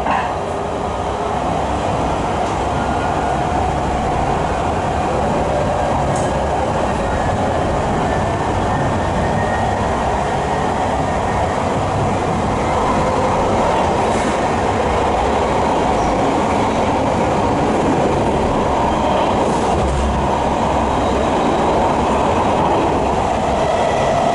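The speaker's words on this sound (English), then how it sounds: "welcome aboard of City Direct towards Amsterdam Central and final station Breda." City Direct passenger train travelling toward Amsterdam Centraal, heard from inside the carriage as a loud, steady rolling rumble with wheel and track noise and occasional faint clicks and squeals, unbroken throughout.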